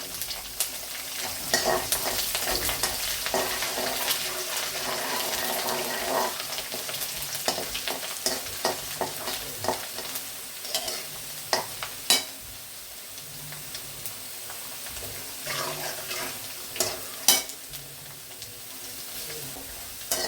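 Clam meat stir-frying with ginger and garlic in a pan, giving a steady sizzle with repeated scraping and stirring clatters throughout, no voices.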